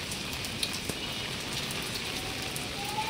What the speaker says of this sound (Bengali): বেশি বৃষ্টিতে ভিজিও না